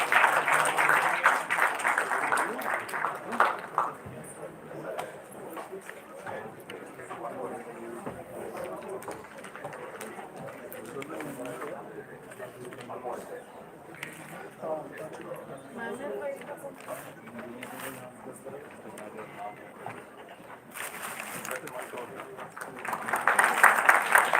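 Audience applause at a live dental event ceremony, swelling loudly at the start and again near the end, with a long stretch of softer clapping and talk in between.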